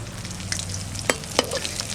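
Koi fish sizzling in hot oil in a frying pan, a steady close crackle with a couple of sharp spatters and stirring clinks, no talking.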